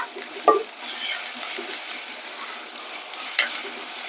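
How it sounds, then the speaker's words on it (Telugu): Ginger garlic paste fries with onions in a pan, giving a soft steady sizzle with a couple of sharper scraping stirs near the start and again toward the end, recorded close. "చిట్టపట్టని దోరగా వేగుతుంది కదా అల్లం వెల్లుల్లి పేస్ట్."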